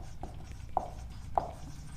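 A pen or chalk writes on a board during a maths lesson on common factors. Faint, short scratchy strokes and taps come a few times over a quiet room hum.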